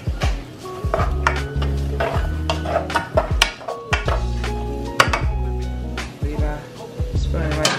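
Onion being stirred in a pot while cooking, with repeated scraping and clinking of a utensil against cookware in an irregular rhythm, close and fairly loud.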